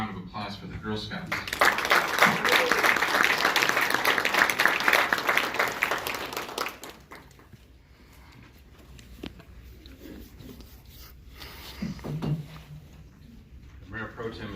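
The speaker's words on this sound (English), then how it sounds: "How about another round of applause for the Girl Scouts?" Audience applause at a city council meeting, honoring a group of Girl Scouts: a dense burst of clapping for several seconds that fades out, followed by quieter room sounds and a voice.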